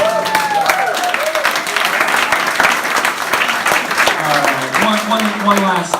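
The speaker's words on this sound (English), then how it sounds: "Big round of applause." Comedy club crowd gives a loud round of applause with scattered cheers, dense clapping running throughout while voices and shouts rise over it.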